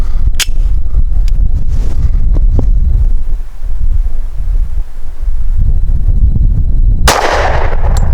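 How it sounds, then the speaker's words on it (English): Colt 1911 Commander firing light 165-grain Federal Premium Low Recoil .45 ACP outdoors, a few sharp loud reports spaced irregularly over heavy wind rumble, with a final crack near the end. "Next up is the Federal Premium Low Recoil load. This is only 165 grains, which is pretty light for 45 ACP."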